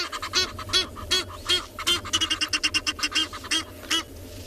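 Several Egyptian geese on a South African safari honk and call loudly in a rapid, overlapping series of harsh, rhythmic blasts, with a few pauses between bursts.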